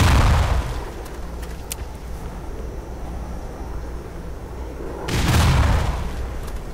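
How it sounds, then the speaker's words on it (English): Grenade explosions in Black Mesa, one heavy boom at the start and another near the end, with rumbling echoes and scattered debris between them. "That's enough grenade throwing."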